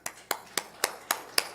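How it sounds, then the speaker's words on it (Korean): A congregation at a Sunday church service gives a short burst of clapping, six sharp evenly spaced claps heard fairly close, with faint murmuring underneath. "우리 한번 박수 쳐줍시다"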